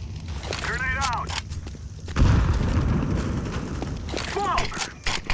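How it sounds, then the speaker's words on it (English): A grenade goes off in a competitive Counter-Strike match on the Ancient map with a loud, close boom partway through. A rumbling tail follows the blast, and short voice callouts can be heard before and after it. "Grenade out."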